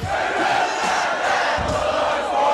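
A festival crowd of about 45,000 at Sziget Festival roars and cheers in a loud, dense, sustained wash of voices with swelling shouts throughout.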